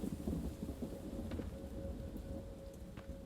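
Rumbling thunder from a lightning storm in a video game, a low rolling roar beneath a steady wash of heavy rain, with a few sharper crackles and no voices.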